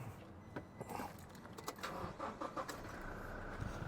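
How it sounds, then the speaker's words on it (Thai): Keys jingle and click in the ignition, then a pickup truck engine cranks and starts, heard faintly at a distance. "เดี๋ยวสตาร์ทเครื่องให้ฟังนะครับ"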